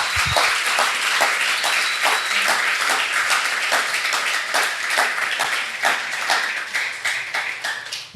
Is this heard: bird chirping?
no